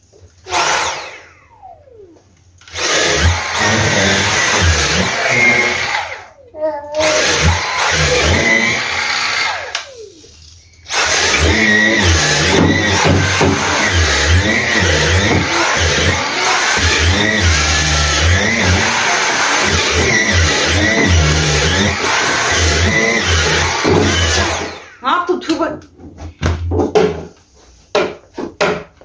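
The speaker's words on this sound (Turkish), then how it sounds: "Hadi gelin şu turuncu koltuğumu da bir süpürelim" A Dyson cordless vacuum whines loudly in long bursts, stopping and starting, with brushing and bumping as it moves over an orange sofa's upholstery.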